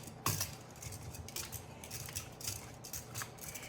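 Metal tongs clink and scrape against a sheet pan while chicken thighs are turned and coated, giving a few close, irregular metallic taps and rattles.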